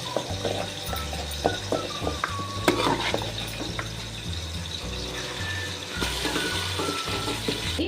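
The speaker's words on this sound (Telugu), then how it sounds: "నీళ్ళు ఇలా మరుగుతున్నాయి చూడండి" Water boils in a pot for hotel-style chicken dum biryani, a steady, dense bubbling and sizzling with occasional clinks, over a low, continuous droning background that runs throughout.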